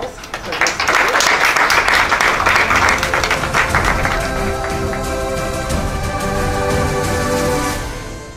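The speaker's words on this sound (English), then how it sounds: "Please join me in a round of applause for this award." A school board meeting audience breaks into applause, loud and steady for several seconds before thinning out, with some voices mixed in toward the end.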